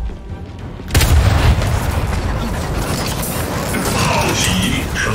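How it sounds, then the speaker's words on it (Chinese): An artillery strike explodes in Gears 5, played on Insane difficulty in Escape mode on Xbox Series X. After a near-silent second, a sudden heavy boom erupts into a sustained, loud, rumbling roar with mechanical rattling. "炮击成功。"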